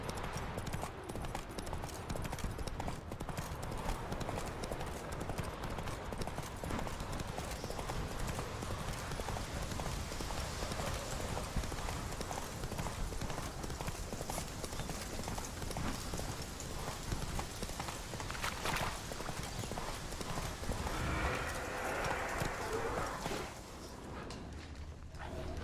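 Hooves of Roach, the horse in The Witcher 3, clip-clopping steadily at pace across the whole stretch, close and continuous, with faint background speech now and then.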